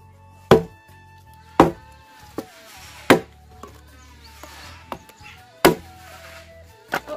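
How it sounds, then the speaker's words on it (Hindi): Firewood being chopped by hand in a Himalayan hill village, six sharp, loud, widely spaced impacts of a blade striking wood, each with a short ringing tail, with quieter rustling and knocks between the blows. "लकड़ियाँ काट रही हूँ।"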